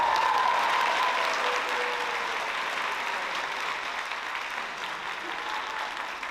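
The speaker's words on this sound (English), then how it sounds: "Let's give them a round of applause." Graduation ceremony audience applauding steadily for a standing class, a broad dense wash of clapping that holds loud throughout and eases slightly toward the end.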